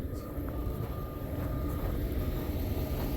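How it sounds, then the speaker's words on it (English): A heavy semi truck rumbles past nearby with a deep, steady engine drone and road noise, holding loud throughout with no talking. "That's a very big semi."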